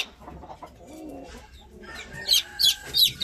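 Newly hatched native chicks in a small backyard peep and cluck as they feed, with soft low clucks early on and then a run of three or four sharp, high chirps close by near the end.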